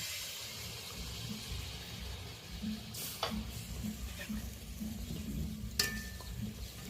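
Banana batter for gur pitha fries in very hot oil, a faint continuous sizzle with soft low bubbling and a couple of brief sharp clinks.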